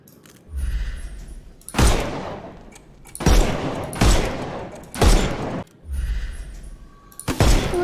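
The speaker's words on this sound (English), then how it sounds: "Shoot off their armor." Loud gunfire bursts from the Sherlock Holmes Chapter One video game: about five heavy volleys of rapid shots, each a dense booming cluster, separated by short gaps of quieter background.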